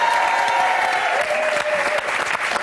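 Studio audience at a French television show breaking into loud sustained applause, dense clapping throughout with a faint tonal whistle or music line running underneath.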